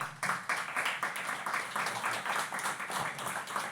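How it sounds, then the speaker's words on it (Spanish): Applause from an audience at a social poetry reading welcoming a poet, a steady wash of many hands clapping at moderate, somewhat distant level, no speech over it. "Un fuerte aplauso para Omar."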